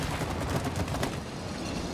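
Dense rapid gunfire from a co-op action video game as shields get shot away, a steady rattling fusillade throughout at moderate loudness.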